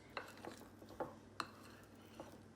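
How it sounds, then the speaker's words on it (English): A spoon scrapes and taps against a bowl while mixing a plant-based treat from the edges, producing soft, intermittent clinks spaced irregularly, close and quiet. "So everything is mixed in nicely from the edges"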